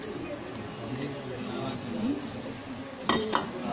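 Peas go into a cooking pot during zero-oil cooking, with faint clinks of utensils against the pot and a sharper clatter near the end, under steady kitchen background noise.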